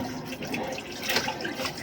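A tap runs steadily into a sink while used utensils are washed, a soft close splashing and trickle with no speech.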